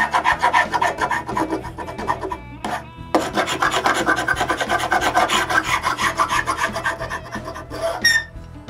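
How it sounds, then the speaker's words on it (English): A scraper rasps repeatedly across glued wooden boards, taking off excess glue before it sets, a loud close series of rhythmic scraping strokes with a short pause partway through. "I scrape off the excess glue."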